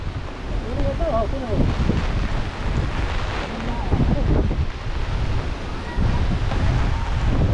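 Strong gusts batter the microphone in an open rice field, a continuous heavy rumble with brief talking over it.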